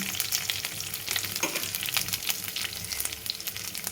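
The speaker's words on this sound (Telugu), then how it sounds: "వెల్లుల్లిపాయ అవి వేస్తుండగానే 2 ఎండుమిరపకాయలు వేసి సరి కలిపి" Garlic and dry red chillies sizzle steadily in hot oil as they are tempered in a pan for a ridge gourd curry, with a constant close frying hiss and occasional spoon stirs.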